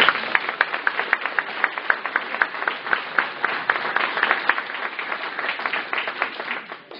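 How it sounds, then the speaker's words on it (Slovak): An audience at a concert in Soblahov gives a steady round of applause, dense overlapping claps sustained at a fairly loud level throughout, tapering off near the end. "A ja poprosím ešte jeden potlesk pre ňu."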